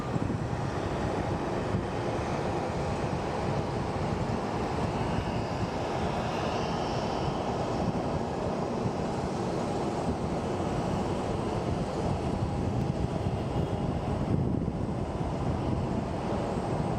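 Southwest Airlines flight 1786 from Denver landing at Phoenix Sky Harbor Airport, heard as a steady, continuous broadband jet roar with wind-like rush, constant in loudness throughout, with no talking.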